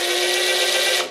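A DEWALT impact driver spins a bit held in a 1/2-inch to 1/4-inch hex impact wrench adapter, giving a loud, steady high-pitched motor whine close by that cuts off sharply after about a second.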